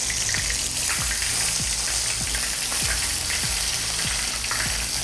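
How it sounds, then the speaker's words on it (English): Dredged pieces fry in hot oil on a stovetop with a loud, steady sizzle, broken by regular soft pops and bubbling bursts. It is close and heard alone. "frying up nicely."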